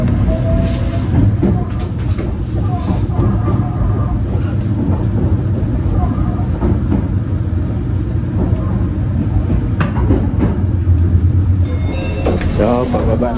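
Continuous low rumble and rattle of a train rolling along the rails in Japan, loud and close throughout, with people talking over the noise.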